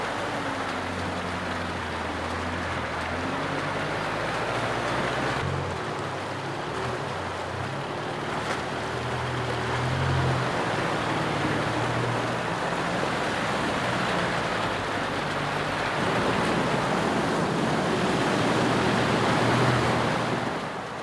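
Creek water at Tom Groggin in Victoria's High Country rushes in a steady, close, broadband wash for the whole stretch, with low wind rumble underneath and no voices.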